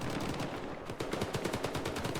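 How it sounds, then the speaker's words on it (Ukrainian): Rapid bursts of S.T.A.L.K.E.R. gunfire crackle in quick succession during a Monolith attack mission, a steady automatic rattle that grows denser toward the end. "Начебто стріляють."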